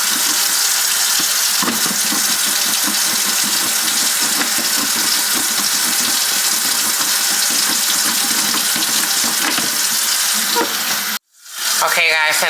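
Hot water runs from a tap in a steady, loud, close rush of splashing that continues unbroken for about eleven seconds, then cuts off abruptly before a brief burst of splashing.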